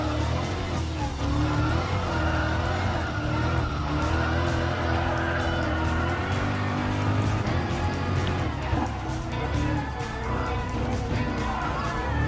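Race cars, including a Nissan GT-R and BMW M6, roar continuously around Circuit de Barcelona-Catalunya in Gran Turismo Sport, with droning engines, revving and intermittent tire squeal throughout.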